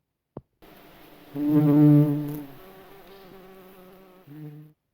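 Insects buzzing with a steady droning hum that swells louder midway, then fades and briefly returns, preceded by a single sharp click, close and alone.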